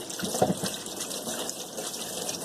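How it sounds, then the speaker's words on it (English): Water runs steadily from a kitchen tap while hands are rinsed, a close, continuous splashing rush with slight bubbly changes as the hands move through the stream. "I'm going to rinse my hands off."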